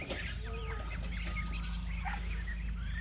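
Chickens clucking and calling repeatedly in a steady farmyard chorus, fairly close, with a constant low background hum.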